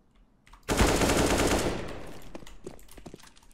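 An AK rifle fires in CS:GO, a sudden loud burst of rapid shots that rings out and tails off into a fading echo, followed by a few faint clicks.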